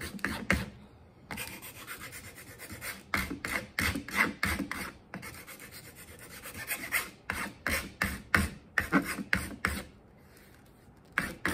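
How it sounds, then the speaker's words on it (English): A fine file rasps across a plastic drypoint printmaking plate in quick, uneven bursts of scraping strokes, close and fairly loud, with short pauses between runs and no talking. "with this finer file. Take out some of those teethy areas."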